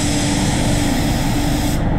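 A spray gun lays clear coat on a Tesla Model X, a loud, continuous close-up hiss of atomized spray that holds steady throughout before tapering at the end.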